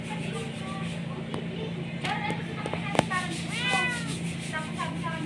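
A cat meows several times, short drawn-out calls over a low steady hum, with soft background clatter and voices nearby.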